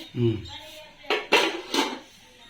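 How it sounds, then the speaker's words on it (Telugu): A metal lid is set onto a pot of village-style mutton gongura curry, giving a few close, sharp clanks and rattles in quick succession, preceded by a brief voice. "ఓకే మూత ముచ్చేద్దాం మరి"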